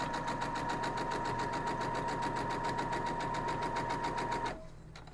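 A sewing machine stitching quilt fabric for a wild geese flying quilt block, a fast, steady mechanical whir with an even rapid pulse, close up and alone, stopping abruptly near the end into near quiet.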